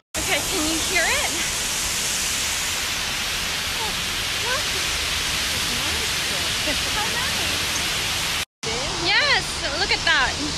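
Water rushes loudly and steadily after heavy rain, a continuous broadband roar on an outdoor walk, with a short break near the end and faint voices over it.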